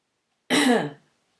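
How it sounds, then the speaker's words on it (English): A single short, rough throat clearing, close and loud, after a moment of silence. "Sorry, just clearing my throat."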